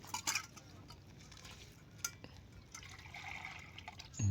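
Water is poured into a tin container, a steady liquid splash with a few light clinks at the start and a fuller, brighter stream toward the end, heard alone without talk.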